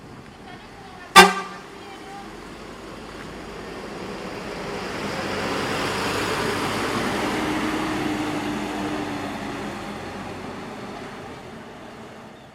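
A bus leaving Payakumbuh gives one short, sharp horn toot near the start, then its engine swells and fades as it rolls past on the road, with a steady traffic rumble behind.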